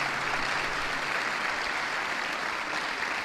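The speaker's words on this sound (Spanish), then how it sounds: "pido un fuerte aplauso para Raúl Santana" Audience applause at an evening talk-show taping, a steady, dense wash of clapping that holds evenly for a few seconds with no voices over it.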